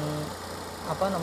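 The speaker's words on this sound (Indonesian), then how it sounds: "Di bagian mesin, kalau kalian bisa dengar kondisi suaranya seperti ini teman-teman, masih halus banget ya." Idling engine of a 2005 Toyota Vios, a steady smooth low hum with no knocking, running continuously under someone talking nearby.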